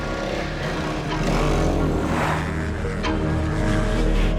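Motorcycle engine droning steadily under a Dakar rally ride, a dense continuous rumble that stays loud throughout, with no voices.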